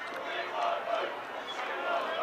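A distant crowd at a county cricket ground, Essex Eagles against Derbyshire, raising a sustained chanting roar that swells and dips, fairly faint and far off.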